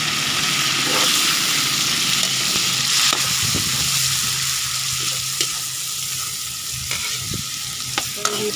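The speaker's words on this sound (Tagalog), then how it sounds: "So, lagay na po natin yung kamatis." Tomatoes frying in a pan for Filipino pinakbet, giving a continuous close sizzle with occasional stirring clinks and scrapes, heard alone without talk.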